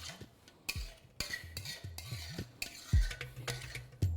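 A spoon stirs chicken kosha in a pan, scraping and clinking against the metal in uneven strokes with quiet gaps and a faint sizzle beneath.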